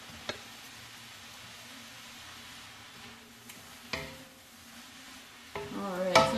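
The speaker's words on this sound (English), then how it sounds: "I'm just going to give this a stir and just get this heated up" A garden vegetable sauté with basil sizzles softly in a pan on a home kitchen stove. A spoon stirring it adds a few sharp clinks and scrapes, which grow louder and busier toward the end.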